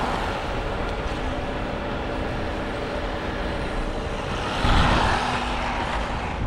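An upgraded Arrma Mojave Grom RC truck runs at full throttle, giving a steady close, broadband motor whine and rumble that swells briefly near the end, with no voices.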